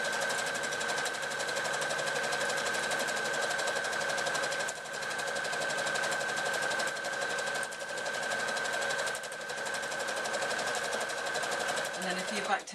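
A sewing machine runs steadily, stitching straight across the top of a fabric handbag panel, a continuous close mechanical hum that pauses briefly a few times before resuming.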